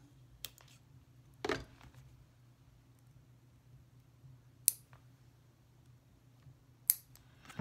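Artificial almond-shaped nails being trimmed down with clippers, a few sharp isolated snips spaced seconds apart over a quiet low hum.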